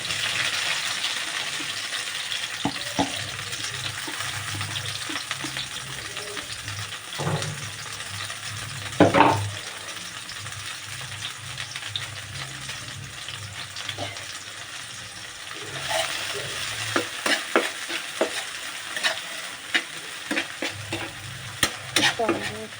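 Chopped ingredients sizzling in hot oil in a home kitchen pan, a steady frying hiss broken by scraping stirs and clatters of a spatula, close and fairly loud with no talking.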